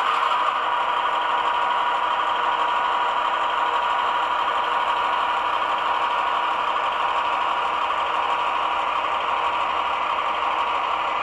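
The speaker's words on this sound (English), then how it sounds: "I'll run the engine backwards and forwards a little bit so you can hear the engine going" An HO scale model train locomotive running forward along its track, giving a steady, even mechanical hum with faint rattling that holds at a constant level throughout, with no talking.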